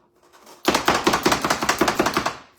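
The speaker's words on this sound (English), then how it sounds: "And so, the more you chop it, the smaller it gets." Onions being chopped in a hand chopper, a rapid run of about a dozen sharp, loud plunging chops in steady rhythm, close up and without talk.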